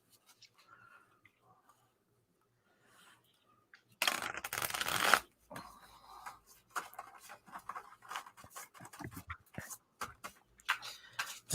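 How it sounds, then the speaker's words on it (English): Near silence, then a sudden burst of riffling cards followed by soft, irregular shuffling and tapping sounds, close and quiet. "The sound of silent shuffling."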